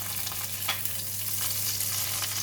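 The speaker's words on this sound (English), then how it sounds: "now we're going to put in the salted fish. We're going to fry the salted fish" Salted fish fries in a pan, giving a steady close sizzle with a few light stirring scrapes and no voices.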